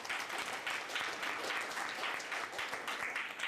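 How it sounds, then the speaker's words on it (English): An audience at a high school fall sports banquet claps in sustained, dense applause that stays steady and fairly loud from start to finish, with no speech over it. "so a nice round of applause for Allison Braun."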